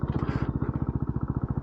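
A Benelli TNT 125 mini bike's small engine runs close by with rapid, evenly spaced firing pulses, giving a steady, chugging beat at a light, moderate throttle.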